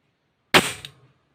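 A single sharp, close CO2 pistol shot from an Umarex Walther PPK fired through a ballistic chronograph, a loud crack with a faint second tick just after, then silence.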